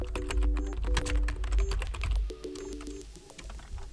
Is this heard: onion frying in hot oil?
no